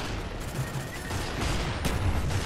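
A noisy firefight plays out in the PC shooter Black Ops, with dense, overlapping shots and muffled blasts forming a continuous, moderately loud rumble with no clear pauses.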